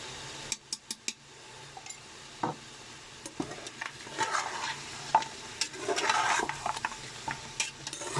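Garlic and ginger paste frying with meat in a pan for Pakistani salted meat, giving a soft continuous sizzle broken by sharp scraping stirs and clinks, with no talking.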